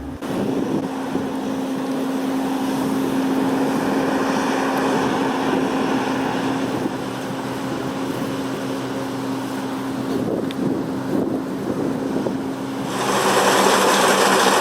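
A combine harvester works a steep, side-sloping field with its engine pushed to full power, giving a loud, steady drone with wind rush and a brightening roar near the end.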